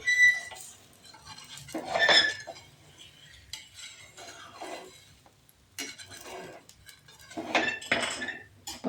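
A knife scrapes around the edges of a pan to loosen a sweet pudla, producing several distinct bursts of metallic scraping and clinking separated by quiet gaps.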